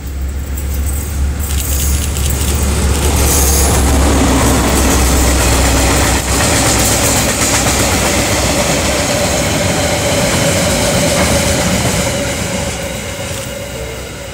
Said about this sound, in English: Motive power is provided by three of KiwiRail's DFB class diesel locomotives, which were built by General Motors of Canada in 1979 and 1981.